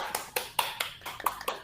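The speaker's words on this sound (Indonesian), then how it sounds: "Tepuk tangan dulu untuk kita semua." A classroom of students claps hands in a sparse, uneven series of about eight sharp claps, fairly quiet, with faint room noise between them.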